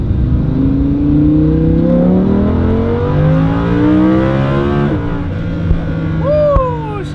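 A Lamborghini Huracan with a naturally aspirated engine accelerates hard and loud, its engine note climbing through several gears in rising sweeps, each broken by a brief dip at the shift.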